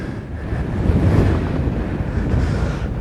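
Strong wind roars and buffets the microphone on an open hillside hike in the Brecon Beacons, a loud, steady rushing gust with no voices.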